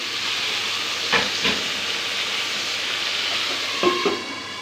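Pieces of beef kabab sizzle in a covered pan after stirring, a steady close frying hiss broken by a few soft clinks and knocks of the lid or utensil.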